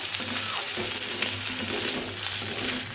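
Cauliflower, potato and prawn curry stirred and frying in a pan, with a steady sizzle and a few spoon scrapes at a close, even level.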